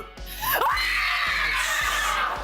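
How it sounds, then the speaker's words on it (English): Actress Samara Weaving lets out a sustained, piercing banshee-like scream in a film, loud and rising over a pulsing low rumble of score with rhythmic thuds. "The scream, the power in that woman's banshee yell."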